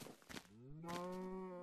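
A Minecraft cow moos once in a drawn-out, tonal call that starts after a brief scuffle of game noise and holds steady and loud to the end.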